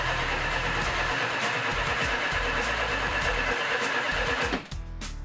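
A car engine fires and runs after the starter is hit, with retarded ignition timing: a loud, rough, continuous roar close by that cuts off abruptly near the end, leaving a quieter background.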